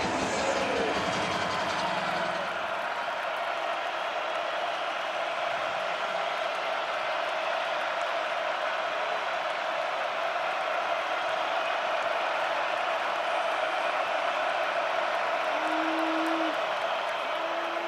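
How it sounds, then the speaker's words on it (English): A college football stadium crowd at Iowa State versus Cincinnati roars in a sustained, broad wall of noise during a third-down play, heard from a distance and holding steady throughout. "there's that crowd again trying to get the offense out of rhythm"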